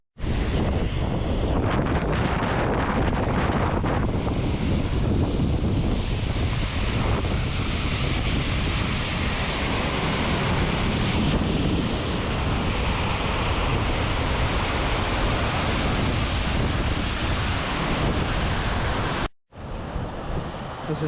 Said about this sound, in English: it's just like there's just waterfalls upon waterfalls upon waterfalls